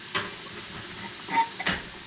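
A steamer hisses while cooking golden pompano fish: two brief, faint bursts of steam stand out over a steady low background rush.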